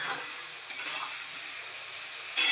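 Green peas go into a hot frying pan with tomatoes, and a steady high sizzle hisses throughout, swelling into a brighter, louder crackle at the very end.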